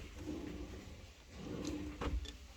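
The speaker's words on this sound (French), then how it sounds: "Là on retrouve des tiroirs par exemple." A kitchen drawer in a store display at a Brico Dépôt showroom slides and bumps shut, a short soft knock late in the clip over a quiet room hum.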